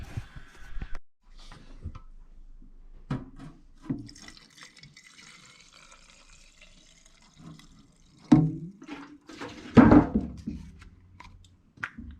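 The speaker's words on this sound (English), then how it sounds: "Let's add some fuel to this guy and see if it'll fire up." Fuel pours into the tank of a 22-inch Weed Eater Excalibur hedge trimmer, a soft liquid trickle and gurgle with a few sharp clunks and a louder knock near the end, close by and with no talking.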